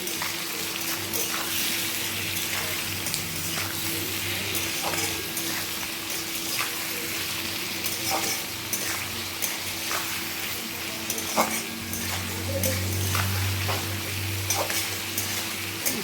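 Prawns fry in oil for a banana flower curry, giving a continuous, close sizzle that stays steady throughout, with faint scraping from stirring.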